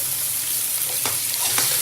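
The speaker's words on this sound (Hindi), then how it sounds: "अब मैं इस चिकन को अच्छे से फ्राई करूँगी इसी ऑयल में और इसी प्याज में।" Chicken pieces fry in oil with onions for biryani, giving a loud, continuous close-up sizzle with a few soft stirring scrapes and no voices.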